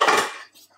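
Cutlery and dishes clatter as they are cleared away in a home kitchen during choux pastry baking, a short bright rattle of metal and crockery that fades quickly to quiet.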